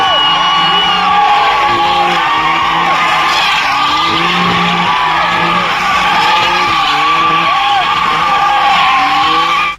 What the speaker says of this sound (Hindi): क्यों भाई मस्त थी ना ड्रिफ्ट।